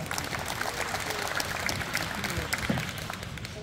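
Sustained applause from an audience welcoming a speaker at an open table tennis tournament in Pocheon, a dense steady clatter of many hands filling the room throughout.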